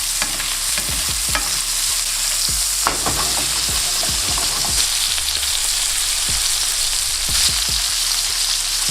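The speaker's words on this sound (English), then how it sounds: "baste it with butter for the remaining time" A steak sizzles loudly in a hot pan while being basted with butter and garlic, a steady frying hiss broken by repeated clinks and scrapes of a spoon, close and continuous with no talking.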